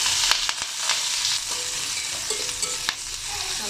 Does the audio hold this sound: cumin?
yes